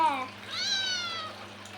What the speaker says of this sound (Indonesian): Itu kucingnya meow-meow nggak?